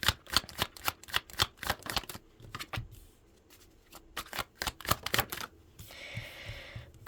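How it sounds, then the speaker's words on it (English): Tarot cards are shuffled by hand in quick, crisp riffling bursts for about three seconds, then a pause, then more sharp bursts, close and clear with no talking. "I took all the cards back and I shuffled."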